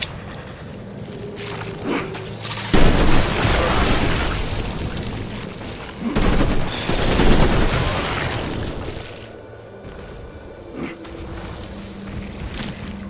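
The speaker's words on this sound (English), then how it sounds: "I heard gunfire over here" Bursts of loud gunfire and explosive blasts in the game Civilization: Beyond Earth, two heavy sustained volleys with quieter rumbling stretches between them.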